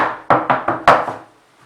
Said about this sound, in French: Tapez dessus pour enlever les bulles d'air et que ça soit égal.